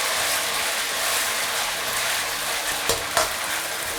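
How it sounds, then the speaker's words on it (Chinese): Chicken breast slides into oil heated to moderate warmth, giving a steady, close frying hiss throughout with two brief sharp clinks near the end; no voices. "差不多我们烧到一个3成热左右，下入这个鸡胸肉"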